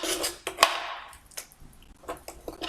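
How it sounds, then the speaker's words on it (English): Vegetables for a homemade tomato sauce are stirred in a pan: a spoon scrapes and clinks against the metal in a few separate strokes, close and fairly quiet, with no talking. "Once these are all in the pan, you just stir it up."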